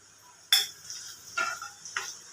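Cumin seeds, mustard seeds and curry leaves dropped into hot oil for an amla pickle, giving three sharp crackling bursts at about half-second, one-and-a-half and two-second marks over a low sizzle.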